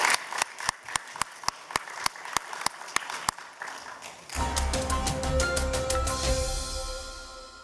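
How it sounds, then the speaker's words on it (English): A conference audience applauds the panelists at a business forum. One person claps in slow, evenly spaced single claps, then the whole room joins in a dense, sustained round of applause that fades slightly toward the end. "please give a hand of applause to the panelists"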